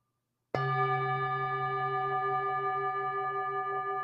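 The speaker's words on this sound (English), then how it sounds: "inviting the bell." A meditation bell is struck once after a moment of silence. It gives a clear, near tone that rings on steadily and fades only slightly over several seconds, with no talk.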